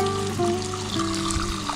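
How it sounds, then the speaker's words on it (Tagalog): Clean mountain spring water flows in a steady, continuous rush at a hilltop campsite, close by, with a low steady hum underneath. "Merong umaagos dito na malinis na tubig ba."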